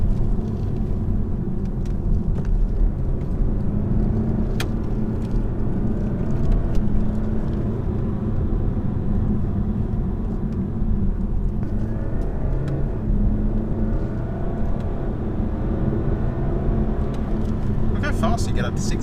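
A 2017 BMW 420d Gran Coupe diesel accelerates on a road, its engine emitting a steady low rumble and whir from inside the cabin that persists throughout.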